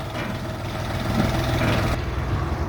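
A Jinma 244 mini tractor with a three-cylinder engine idles with a steady, low diesel rumble, close up and fairly loud, holding an even drone throughout with no voices.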